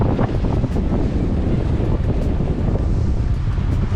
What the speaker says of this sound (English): We've got 13, 12 knots of wind and basically on a close haul.